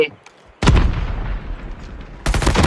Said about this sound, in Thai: ไอ้ตันระเบิดตรงกู กูตายคู่